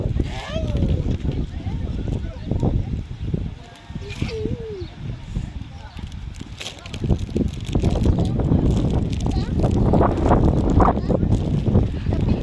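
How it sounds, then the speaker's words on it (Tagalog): Strong wind by the sea at low tide on a farm, roaring and buffeting the microphone loudly and continuously under a person talking. "Mahangin dito sa dagat is mahangin."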